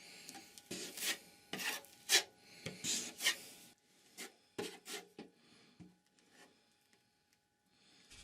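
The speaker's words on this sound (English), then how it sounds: "To fill the joint with putty, I use a 10 cm wide spatula." A 10 cm wide spatula spreads drywall putty along a seam in a series of close, soft scraping strokes, several brisk rasps at first, then slower and quieter smears, with no talk.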